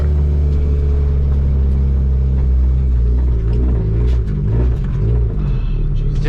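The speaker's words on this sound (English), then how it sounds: "The throttle body is big. It's gonna be like womp womp womp." An all-motor Honda EF hatchback engine with a big throttle body idles with a loud, deep, steady rumble close by, showing slight throttle wobbles and faint clicks toward the end.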